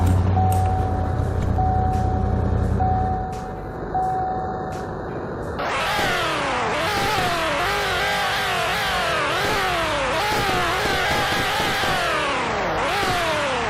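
A 2006 Pontiac GTO in a video game, first idling with a steady low hum and an electronic tone, then firing into a loud, repeated revving pattern with rising and falling sweeps, close and without talk.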